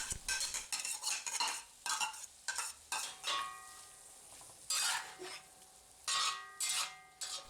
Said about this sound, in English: Then we mix in the scrambled egg.